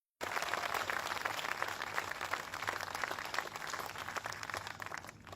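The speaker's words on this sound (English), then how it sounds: "let's give them a round of applause for the ongoing partnership" An audience at a New York governor's announcement about the Bassmaster Elite Series applauds steadily, a dense, even wash of clapping that starts abruptly and carries on without talk.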